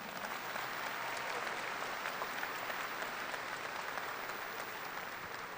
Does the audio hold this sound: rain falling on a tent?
no